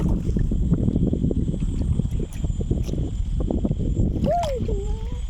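Constant low rumble of wind and rushing water close to the microphone in Mamandur forest near Tirupati, India, with a brief whistling tone near the end.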